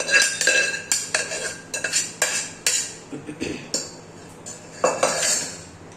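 Metal utensils clatter and knock against a pot as peas and potatoes are added for a curry, a quick, irregular series of sharp clinks and scrapes, close up, with no talking.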